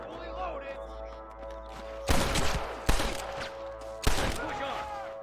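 Three loud bursts of gunfire crack out in a western shootout alongside deputies, sharp impacts with ringing tails over a tonal music bed, spaced about a second apart, with shouting voices in the mix.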